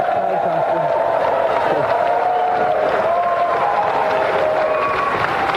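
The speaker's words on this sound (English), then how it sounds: "A round of applause again for Ashley Paske" A television studio audience applauds loudly and steadily, a dense wash of clapping with some cheering mixed in throughout.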